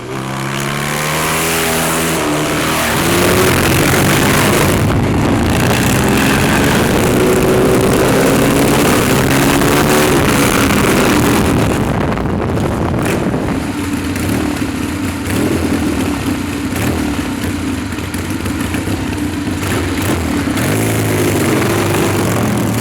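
Vintage 1960s-70s Triumph motorcycles ride past with engines revving hard, a loud, continuous roar that swells and eases over some twenty seconds with no voices.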